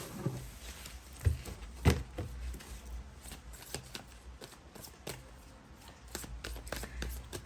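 A deck of tarot cards is shuffled close up during a card reading. The crisp riffling and flicking runs steadily throughout, with a few sharper slaps of the cards and no speech.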